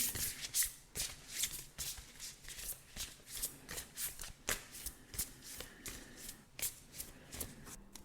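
A deck of Affirmators affirmation cards is shuffled by hand over and over, giving close, crisp riffling bursts and soft flutters in a steady rhythm with short gaps between them, and no one speaks.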